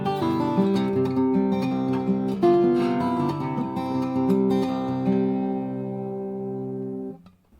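Acoustic guitar playing bars 9 to 12 of a piece, a fingerpicked passage of ringing chords and melody notes, played alone and close, ending with the last chord fading out.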